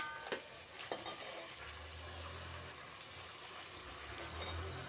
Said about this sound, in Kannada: ಪುದೀನೂ ಸ್ವಲ್ಪ ಫ್ರೈ ಆಗಿರಲಿ ಎಣ್ಣೆಯಲ್ಲಿ.